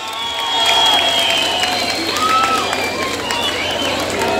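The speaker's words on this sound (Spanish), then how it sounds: "un aplauso fuerte por favor." A concert crowd in Malinaltepec claps and cheers, a steady wash of applause with shouts and whistles rising through the middle, and voices mixed in.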